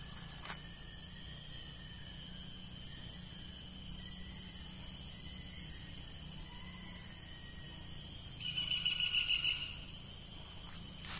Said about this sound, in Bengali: ঝিঝি পোকার ডাক শোনা যাইতেছে।